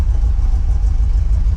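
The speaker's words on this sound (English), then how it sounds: "the exhaust is definitely louder" A lowrider car's engine idles with a louder exhaust, a heavy, steady low rumble close by and fairly loud, throbbing evenly with no revving.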